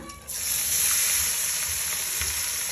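Curry leaves and sprouted horse gram sizzling in hot oil in a pan, a steady close frying hiss that swells after a brief quiet start and continues evenly.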